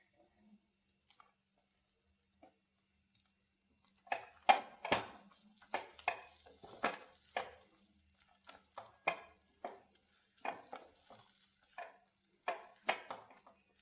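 Cashew nuts and raisins are tipped into a hot pan and stirred, giving a quiet, irregular series of short crackling and scraping bursts after a few near-silent seconds, with no voices.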